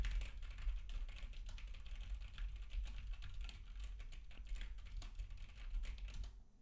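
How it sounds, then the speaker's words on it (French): Quick clicking keystrokes on a computer keyboard, a steady patter of taps at moderate volume with no talking. "un test de frappe au clavier permet de tester la résistance au bruit hors axe du microphone"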